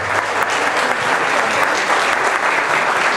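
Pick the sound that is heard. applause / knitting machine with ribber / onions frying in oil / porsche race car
applause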